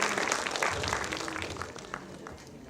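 An audience at a Kannada film title launch event gives a fairly faint, continuous round of applause, slowly tapering off.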